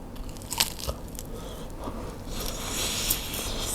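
Crisp bites into a crispy-skinned glass noodle sausage make a few close crunches and crackles, quiet and spaced apart, followed by chewing noise.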